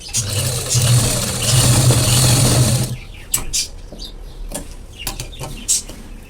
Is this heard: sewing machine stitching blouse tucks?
yes